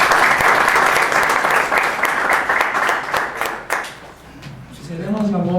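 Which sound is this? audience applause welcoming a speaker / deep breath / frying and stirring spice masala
audience applause welcoming a speaker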